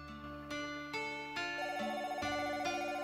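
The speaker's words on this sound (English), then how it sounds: "I can hear the phone ringing." A telephone ringing in the video game Sakura Swim Club, a repeating electronic tonal ring pattern that is loud and clear, with no talk over it.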